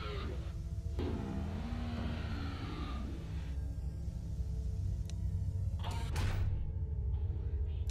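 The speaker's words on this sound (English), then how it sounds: "I think I'm shutting the doors way too early." Heavy doors creak and clunk shut in a horror video game, a low rumbling drone underneath with a loud mechanical slam near the end; no talking.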